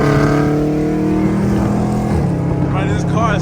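A Dodge Charger Scat Pack 392 with catless mid-pipes revs loudly up close, its deep exhaust roar rising and falling steadily throughout.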